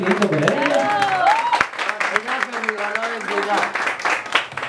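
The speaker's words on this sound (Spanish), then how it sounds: "Un aplauso bien fuerte, bien lindo para ella" Guests at a quinceañera celebration applaud the birthday girl, with a mariachi band present. The clapping runs beneath a voice that sings or speaks loudly over it.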